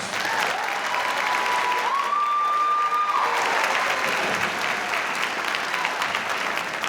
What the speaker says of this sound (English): let's give a big round of applause for the parents and for the families